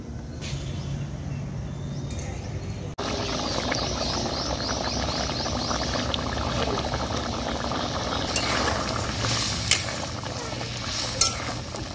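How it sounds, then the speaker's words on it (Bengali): Potato curry gravy with green peas (alur dom) simmering in a kadai, a steady bubbling and sizzling that stays close and even throughout, with a few brief scrapes or clinks near the end. "এবারে আমি ঝোলটা খুব ভালো করে ফুটিয়ে নেব"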